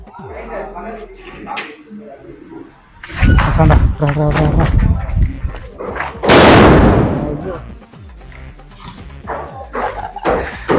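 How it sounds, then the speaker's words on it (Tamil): Diwali firecrackers burst outdoors in two loud, sharp explosions with crackling tails, amid excited voices of people talking nearby and what sounds like a barking dog. "பட்டாசு. இது எவ்வளவு சவுண்டா இருக்குது."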